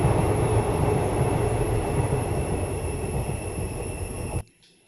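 A train rumbles past nearby, loud and continuous with a high metallic whine from the wheels, then the noise cuts off abruptly.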